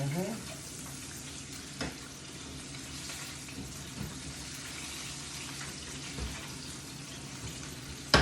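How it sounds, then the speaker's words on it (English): Whole catfish deep fries in hot oil, a continuous dense sizzle and bubbling that holds steady throughout, with a few brief clatters and a sharper pop at the very end. "You have to let the whole catfish fry a little longer than what you would with regular catfish."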